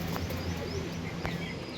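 Punjabi Malwahi pigeons, brought from Punjab, coo steadily in a loft, a low continuous murmur of several birds with a few brighter chirps over a constant noisy background.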